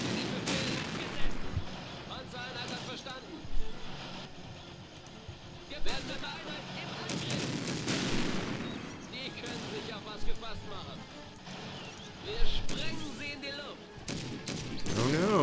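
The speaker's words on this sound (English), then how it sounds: "A few more cautionary shots there." Gunfire and artillery shots in Blitzkrieg 2, scattered booms and rattling bursts spaced every few seconds, with tank engines in the background and someone talking over most of it.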